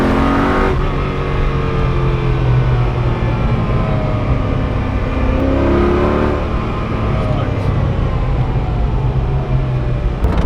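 A Koenigsegg supercar with a manual gearbox drives along Croatian Adriatic roads, its engine loud and close, pitch rising and falling as it revs through the gears, with a voice faintly underneath.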